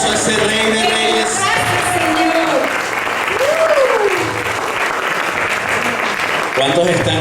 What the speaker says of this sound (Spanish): Fuerte aplauso a ese Rey de Reyes.